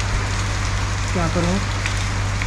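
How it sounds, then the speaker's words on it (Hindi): Heavy, continuous monsoon rain in Rishikesh: an even, unbroken hiss of rain on surfaces fills the whole stretch, while someone speaks briefly over it midway. "कंटिन्यू बारिश है दो दिन से लगातार"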